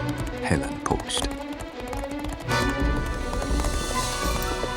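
Hooves of a galloping horse thudding in a quick rhythm on a period drama set, loud and close, with shouting voices over the top.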